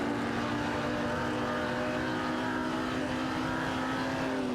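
Ferrari 250 Testarossa and Jaguar C-Type race cars in a video game, engines droning steadily at high revs with a sustained tonal whine throughout, loud and continuous with no talk.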